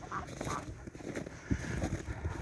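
Chickens cluck and murmur faintly nearby in short, scattered calls against a quiet background.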